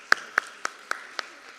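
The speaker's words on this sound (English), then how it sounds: "with a huge round of applause" At a conference closing, a few sparse hand claps ring out, five distinct, evenly spaced claps close by against a quiet room.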